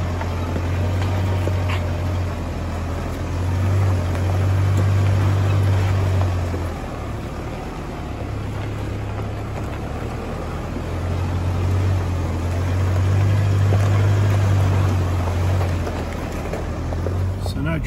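A Toyota Hilux 4WD climbing a wet clay bush track on Billy Goats Bluff, its engine droning steadily and swelling in slow surges as it labours uphill, with someone talking over it.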